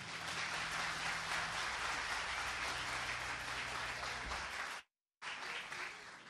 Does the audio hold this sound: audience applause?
yes